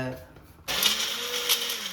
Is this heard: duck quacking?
no